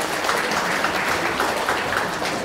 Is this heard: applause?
yes